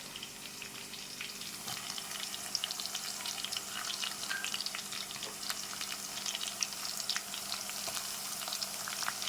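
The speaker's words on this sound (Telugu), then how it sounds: "మనకైతే ఆయిల్ చక్కగా మరిగిపోయిందండి. ఇప్పుడు మనం ఇక్కడైతే ఆనియన్స్ వేస్తున్నామండి." Onions sizzling in hot oil, a steady crackling fry with scattered spitting pops, fairly quiet and close.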